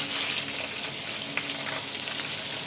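Carp fillets fry skin side down in a hot pan, a dense, steady, close sizzle of spitting oil that holds without a break.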